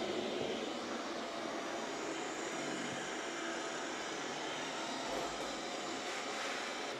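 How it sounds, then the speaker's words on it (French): A Roidmi EVE MAX wet-dry vacuum gives off a steady, broad whirring roar as its suction speeds up while it passes over a rug. The sound is fairly faint and constant, with no talking. "à chaque fois qu'il passe dessus, on entend bien l'aspiration accélérée"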